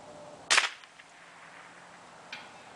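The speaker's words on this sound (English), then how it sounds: "That was a perfect shot." A single sharp crack from a Ruger 10/22 firing .22 LR at a 12-inch bullet trap 300 yards away, followed about two seconds later by a faint distant impact.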